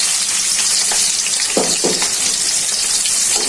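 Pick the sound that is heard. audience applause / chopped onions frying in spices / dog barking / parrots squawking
chopped onions frying in spices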